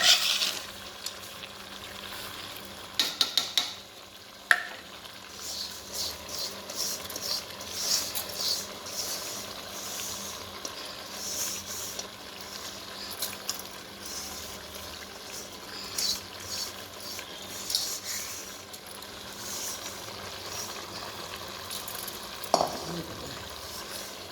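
Roasted rice tipped into sizzling masala for matar aloo masala bhat and stirred, giving a soft continuous fry hiss broken by scraping and clinking of a spoon against the pan.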